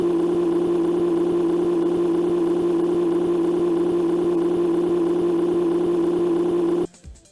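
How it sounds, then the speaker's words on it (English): A truck engine from the racing game Big Rigs Over The Road Racing drones in a flat, unchanging loop, a steady mid-pitched hum with no revving or variation that cuts off abruptly near the end. "The engine sounds loop endlessly"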